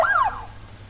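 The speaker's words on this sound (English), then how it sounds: "and my ambulance is here." A single short rising-then-falling siren whoop from an arriving ambulance in the hospital management game Project Hospital, loud and close, fading into quiet room tone.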